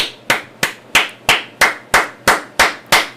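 Hands clapping in slow, even unison as a group cheers the Brigade de Recherche et d'Intervention: nine sharp, evenly spaced claps, about three per second, loud and close with nothing else heard.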